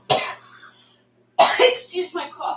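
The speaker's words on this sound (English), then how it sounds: "Excuse my cough." A man gives two sharp, harsh coughs close to the microphone, separated by a brief pause, the second trailing into a rough throaty rasp.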